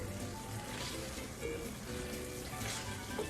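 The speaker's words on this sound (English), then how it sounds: "Nice little sizzle." Amatriciana sauce and pasta sizzling in a pan, a steady close crackling hiss with bubbling pops running throughout.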